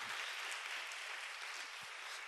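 A church congregation applauds in a steady, dense wash of clapping that holds at an even level from start to finish, with no voices breaking through.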